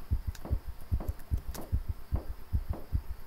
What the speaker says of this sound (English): Shut up, heartbeat.